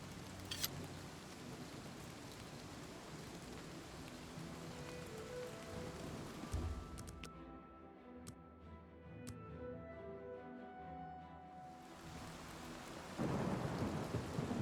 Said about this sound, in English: I don't know why I'm hearing rain rather than the cave